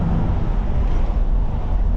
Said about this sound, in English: It sounds great. I don't know why when you pulled up, I didn't see the dual exhaust.